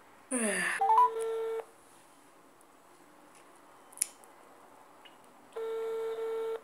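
Phone tones sound while a call is being dialed: a steady electronic tone plays for about a second, then a quiet pause, then a second matching tone returns near the end.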